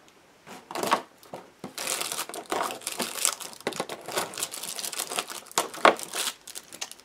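A small plastic accessory bag for a Helicute H818HW RC quadcopter crinkles and rustles in bursts of close handling, with sharp crackles and short pauses between squeezes.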